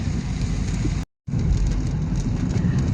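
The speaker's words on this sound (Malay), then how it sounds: "masih hujan sepanjang jalan ni" Steady rain pours down in a dense hiss with a low rumble underneath, briefly cutting to silence before the downpour resumes, heard along a road past rice fields in Negeri Sembilan, Malaysia.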